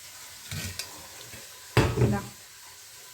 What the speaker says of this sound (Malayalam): ബീഫ് ഫ്രൈക്കൊണ്ടിരിക്കുന്നു